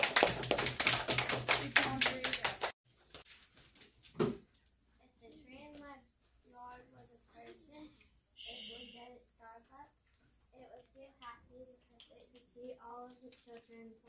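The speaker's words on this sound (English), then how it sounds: "Y'all clap it up. Clap it up, everybody clap." Schoolchildren in an elementary classroom clap their hands: a quick burst of loud, rapid claps first, then softer scattered taps under a rhythmic chanting voice.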